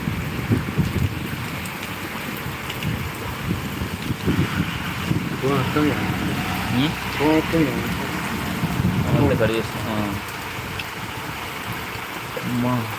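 Heavy rain falls in Mulkanur, a steady loud hiss of downpour with gusting wind. A voice speaks over it intermittently.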